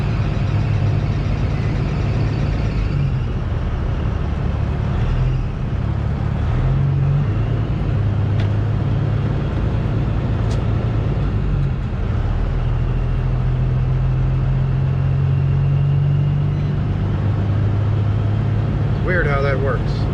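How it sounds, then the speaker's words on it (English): A truck engine idles and runs as a steady loud low rumble throughout, with a faint thin squeal from the belt while the alternator is loaded; someone talks over it. "My belt squeaks in this truck."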